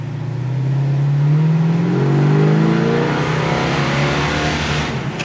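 A 1968 Plymouth Satellite engine drones steadily up close, its pitch rising and falling as it accelerates and shifts gears while driving.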